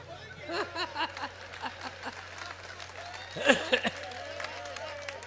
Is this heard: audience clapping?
yes